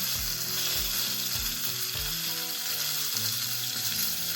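A deer testicle fries in a seasoned pan with a loud, constant sizzle, while scrapes and soft knocks recur as it is flipped and turned.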